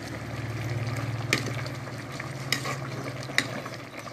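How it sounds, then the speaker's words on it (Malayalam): Turmeric and chili powder fry with jaggery in a pan under a steady close sizzle, while a spoon stirs and scrapes the pan with three sharper knocks spaced through the clip. "ഒന്ന് ഇളക്കുക."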